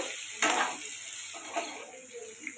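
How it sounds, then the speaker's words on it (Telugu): Tindora (ivy gourd) pieces being stirred with turmeric in a pan, giving a few scraping, clinking spoon strokes over a soft, steady sizzle with no talking. "పసుపు వేసుకొని బాగా ఇలా కలిపేసి"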